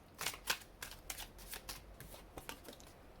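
Tarot cards being shuffled by hand before one more card is drawn, a series of quick, quiet riffling bursts and soft card slaps at close range, fairly faint, with no talk.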